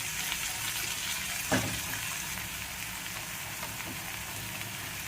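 Chicken fries in a pan with ginger garlic paste, making a soft, continuous sizzle with one brief clunk near the start, heard close and without speech.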